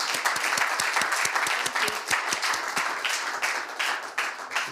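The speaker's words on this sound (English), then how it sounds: "A big applause for Mirjam." An audience at the World Economic Forum Annual Meeting gives steady, dense applause, with many crisp claps continuing for the full few seconds.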